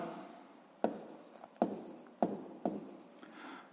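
A pen writes on paper during a sixth-grade maths exercise: four distinct taps and short scratching strokes, evenly spaced and close, with quiet scribbling between them.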